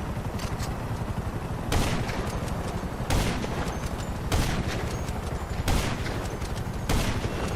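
Gunfire in a shooter video game: loud, sharp bursts of shots crack out at intervals, with a few heavier volleys roughly every second or two over a steady background of game noise.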